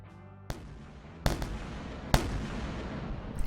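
Ship turrets and emitters firing together in the space game Wayward Terran Frontier: Zero Falls, sharp explosive cracks at irregular intervals, three prominent blasts over a low humming ship drone.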